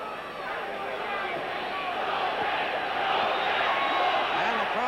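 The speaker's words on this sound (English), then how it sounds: "the crowd is yelling" Boxing arena crowd yelling in a steady, dense roar near the end of round 12 of a championship bout, continuous and loud with excited voices blending into a broad wash of noise.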